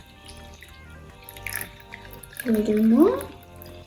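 Blue-tinted water pours into a small handmade craft pond, a brief trickling splash rising over a couple of seconds, with a voice speaking nearby.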